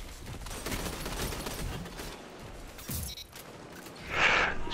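Rapid gunfire from the video game Destiny 2, heard as a fairly quiet dense rattle of shots through the first seconds with a brighter burst near the end.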